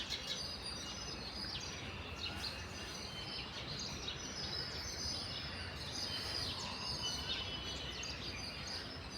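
A large flock of house sparrows, around a hundred or more, chirps continuously in dense overlapping calls, a steady busy chatter throughout with no voices.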